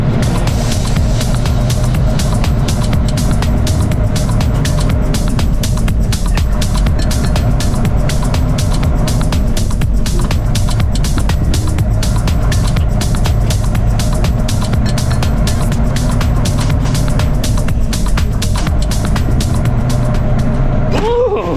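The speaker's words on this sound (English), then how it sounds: "So we have a 7-mile drive over to Carroll's now." Truck engine running steadily while driving on a 7-mile road trip, a continuous loud low rumble with broadband road noise throughout.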